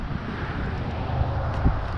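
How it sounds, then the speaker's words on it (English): Wind gusting outdoors, a steady broad rushing buffet across the microphone with low rumble and no talk. "There's some wind up."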